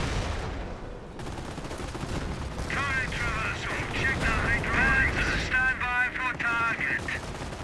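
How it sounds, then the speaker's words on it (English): Riflemen exchanging gunfire in the Company of Heroes World War II strategy game, a steady crackle of rifle and machine gun shots with distant rumbling, under a commentator talking throughout. "Riflemen engaging the next crossroad point blank."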